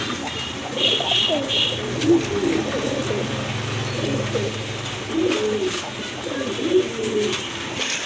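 Pigeons cooing close by in repeated soft, throaty phrases over a steady background hum, with a few brief higher chirps early on.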